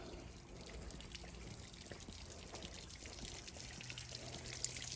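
Garden hose water runs steadily into the stern drive intake ports of a 2003 Bayliner 215 Bowrider, a continuous close pouring and trickling wash that holds at an even level for the whole stretch.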